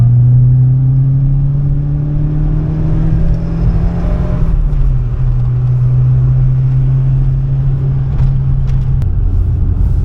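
Fiat Uno Turbo ie pulling away from low speed in third gear, a steady loud engine drone rising slowly in pitch with a brief dip midway, heard from inside the car with no talk.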